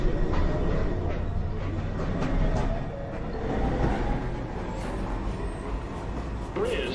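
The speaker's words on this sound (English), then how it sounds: "This is a Manhattan-bound 2 train." A Manhattan-bound 2 train on the NYC Subway at 207th Street rumbles and clatters steadily along the rails, with rising squeals near the end, close and fairly loud, while speech mixes in beneath.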